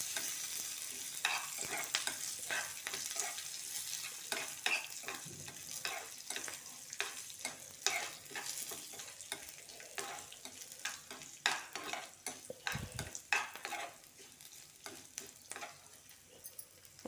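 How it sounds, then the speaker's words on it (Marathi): Curry leaves and chillies are tempered in hot oil for dhokla, crackling and sizzling close up with repeated sharp pops and stirring clatter, and no one speaks. "मिरच्या पण टाकून घेते त्याच्यामध्ये. आपण कढीपत्त्याची पानं पण टाकणार आहे. गॅस कमी करायचा आहे. छान तेलामध्ये अशी फोडणी तयार करून घ्यायची."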